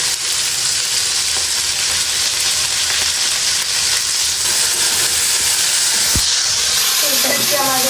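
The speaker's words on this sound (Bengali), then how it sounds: "তো দেখো তেল গরম হয়ে গেছে, এবার আলুটা ছাড়িয়ে দেবো।" Potatoes fry in hot oil with a loud, dense, unbroken sizzle close by, ending with a brief faint tonal sound near the end.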